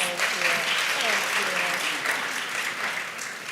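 An audience at a talk event applauds warmly for several seconds, a dense steady clapping that fades slightly toward the end, with voices faintly underneath.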